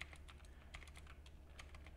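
Quick, uneven keystrokes on a computer keyboard during a live stream, close and fairly quiet, with short clustered bursts of clicks over a low steady hum and no speech.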